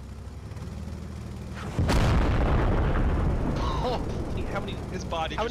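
BMP cannon fire and explosions in Squad, a low engine rumble giving way to a sudden heavy blast near the midpoint, followed by a rolling boom and scattered bangs while a voice talks over it.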